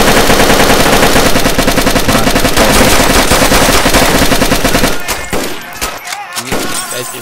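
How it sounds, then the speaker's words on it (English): Guns are fired at an indoor ceiling at a New Year factory party in DayZ. Dense, rapid automatic bursts run for about five seconds, then trail off into scattered shots. "Everyone shoot their gun at the ceiling."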